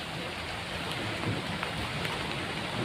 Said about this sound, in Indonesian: Ini udah hujan.